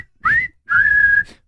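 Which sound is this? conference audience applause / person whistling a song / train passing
person whistling a song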